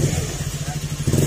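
Honda Beat scooter engine idling up close with an abnormal rocker arm fault, a rapid ticking clatter over a low uneven putter, with a voice faintly in the background.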